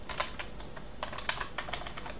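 Fingers typing on a computer keyboard, installing LX Terminal on a Linux system: short irregular bursts of crisp key clicks, close and clear, with no talking.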